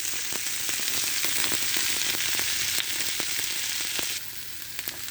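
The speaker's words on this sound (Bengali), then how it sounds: "দেখুন এইভাবে নেড়ে চেড়ে ভেজে নেবো" Sliced bitter gourd fries in a pan with a bright, steady sizzle and occasional stirring knocks, heard close and alone. The sizzle fades a little near the end.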